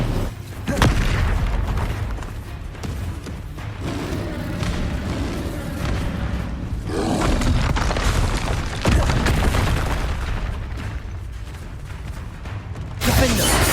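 Bombarda explosion spell booming in Hogwarts Legacy combat, with heavy rumbling blasts and crackling impacts almost continuously across the fight, loud and dense, with voices shouting over the din.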